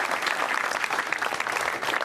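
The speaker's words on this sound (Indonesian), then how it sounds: "tepuk tangan lagi." An audience at an Indonesian stand-up comedy competition show claps steadily, a dense, even burst of applause lasting about two seconds.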